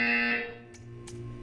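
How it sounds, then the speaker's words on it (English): Portal 2's test-chamber buzzer gives a loud, harmonically rich electronic tone for under half a second, then cuts to a low hum with a couple of faint hisses. "You will hear a buzzer."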